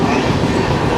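A train rolls along the track during the Kerala monsoon, a loud, steady rumble and rattle filling the whole moment without a break.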